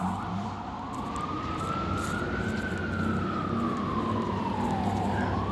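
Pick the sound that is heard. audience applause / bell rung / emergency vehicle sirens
emergency vehicle sirens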